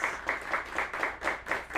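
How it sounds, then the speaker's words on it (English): A studio audience claps in a faint, quick, evenly spaced rhythm, with steady soft beats repeating through the short stretch. "And we would love to welcome our studio audience. Give a round of applause."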